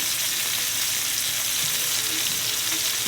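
Peach halves caramelizing in a frying pan give off a continuous, even sizzle, close and steady, with soft hissing and faint crackles and no voices.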